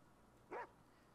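A single short dog bark from the video game Fallout 4, faint and brief against a low background hum.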